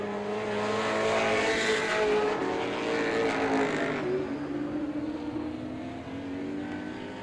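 Bud Light division race cars circle Star Speedway during a 1993 qualifying heat, engines roaring past in a rising and falling sweep that swells loud then recedes into a steadier distant drone.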